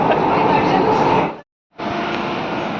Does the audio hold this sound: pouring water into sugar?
no